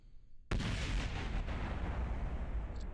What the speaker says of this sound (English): Apparently, our boosters exploded from the original booster.